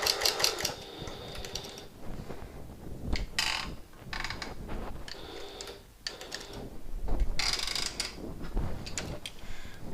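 Sewing machine stitching across the top of a reversible hobo bag, a close, rapid mechanical clatter running in bursts with brief pauses between runs, no talk.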